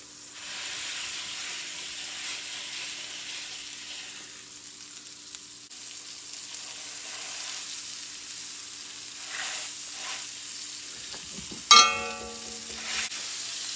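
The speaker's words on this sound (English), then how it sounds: "We're going to throw our burger on there, grab us a nice handful of onions, and smash that right down into that burger." Burger patty smashed with a handful of onions sears on a hot griddle, giving a steady close sizzle throughout with a sharp scrape or clatter near the end.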